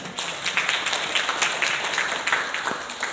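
Scattered applause from a workshop audience on a university campus, a steady patter of many hands clapping for a few seconds at moderate volume with a faint voice underneath.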